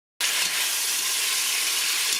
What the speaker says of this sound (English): All right, we got it searing off.